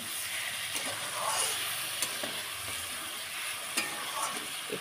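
Hog plum pickle cooks with sugar in a pan, giving a soft continuous sizzle while a spoon stirs it, with irregular scrapes and light knocks scattered across the few seconds.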